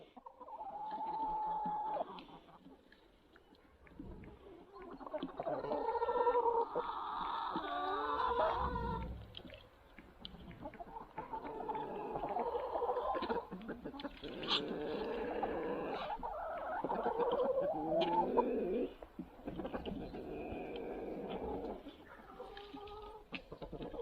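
Chickens cluck and call through a Sunday morning feeding outdoors, with other birds such as ducks nearby, giving varied bursts of clucks and squawks at moderate distance and no clear talk.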